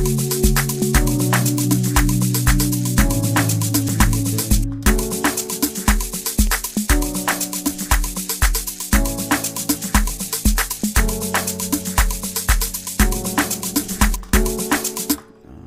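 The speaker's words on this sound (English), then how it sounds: "I have this Nexus piano and it's called Nexus Grand Soft Piano" Soft grand piano from a Nexus virtual instrument, turned down in volume, plays steady repeating chords in an Afro house style pattern, even and continuous with two brief gaps, and no talking.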